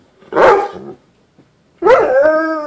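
A dog gives two separate short barks with a howling, vocal quality, close and loud, with a brief quiet gap between them and no talking.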